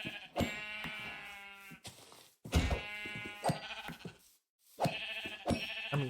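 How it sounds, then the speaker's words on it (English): Several sheep bleat in Minecraft, loud and close, in repeated bursts with short pauses between calls. "All these sheep."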